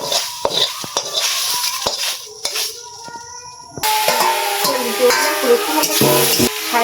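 Boiled taro flower stirred in a pan as oil is poured in, producing close scraping and clinking of a utensil against metal, with a brief quiet gap before a louder, denser stretch of sizzling and scraping. Voices murmur in the background.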